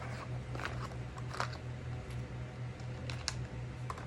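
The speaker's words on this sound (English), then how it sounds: "I use one of these X-Acto knives to start a slice in the sleeve." An X-Acto knife slices into a buckskin sleeve at close range, giving quiet, scattered crisp cuts and scratches over a low steady hum.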